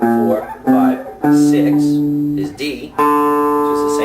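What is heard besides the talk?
No everyday noise stands out behind the speech.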